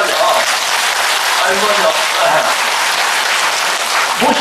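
An audience at a Buddhist dharma talk in a temple applauds loudly and continuously, with a voice briefly speaking over the clapping.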